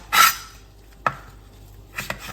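Three sharp knife chops on a cutting board as ingredients are finely sliced for Thai fish cakes, the first loudest, spaced about a second apart, close and with no talking.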